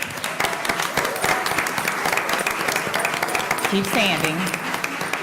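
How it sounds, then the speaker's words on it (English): A school board meeting audience applauds Mark Twain school staff, steady crowded clapping throughout, close and loud, with a person speaking briefly over the clapping. "give them a round of applause"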